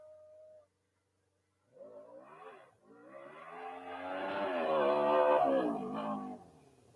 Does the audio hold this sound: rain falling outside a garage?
no